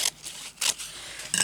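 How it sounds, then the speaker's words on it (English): Three crisp snips of scissors cutting paper, spaced apart with brief quiet gaps between them, close by. "That's scissors."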